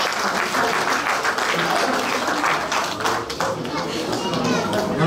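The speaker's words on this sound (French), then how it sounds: "Merci à eux, on peut vous applaudir." An audience at the Auxerre Galactic Days 2022 cosplay contest applauds in a loud, sustained burst of dense clapping, with a voice carrying over the crowd.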